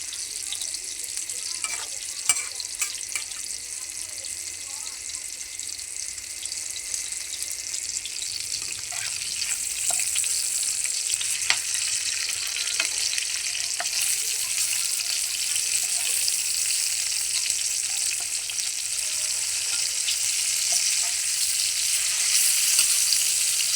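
Malabar spinach stems cook in a pan with a little added broth, a steady hiss of sizzling and bubbling that grows slightly louder and brighter midway, with a few faint clicks and no talk.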